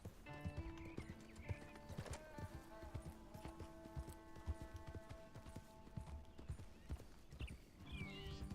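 Horse hooves clip-clop steadily on hard ground while a horse neighs, over faint music-like tones, quiet and continuous, in the video game Red Dead Redemption 2.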